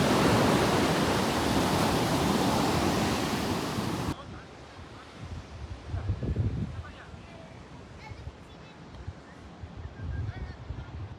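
Surf breaks on a beach in Portugal as a loud, roaring wash mixed with wind for the first few seconds, then drops to a softer, uneven rush of water.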